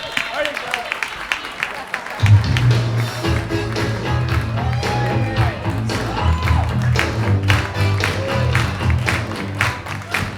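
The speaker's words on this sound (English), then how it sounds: "a big round of applause for Joe Laspro." An audience at a comedy show breaks into applause and cheering as a comedian is brought on, loud dense clapping with shouts and whoops starting after a brief quieter moment and lasting to the end, with voices calling out.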